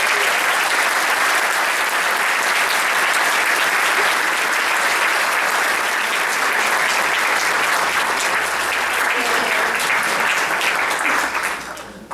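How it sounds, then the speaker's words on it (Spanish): Sustained audience applause at an architecture faculty master class, dense steady clapping from a large crowd filling the space for about eleven seconds before tapering off at the end. "un aplauso para que nos den"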